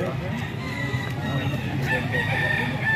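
Young roosters (stags) crow among other fowl, with several overlapping crows and clucks rising over a busy farmyard background, fairly close and repeated throughout.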